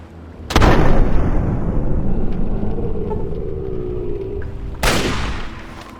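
Grenade explosion and gunfire in Fallout 3: a loud sharp blast at the start, followed by a long rumbling tail and scattered shots, then a second heavy burst near the end, without any speech.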